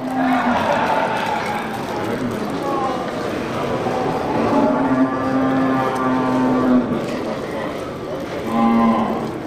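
Several Bali cattle bulls, big and small, low and moo at a livestock sale pen, their drawn-out calls rising repeatedly over a busy background while people talk nearby.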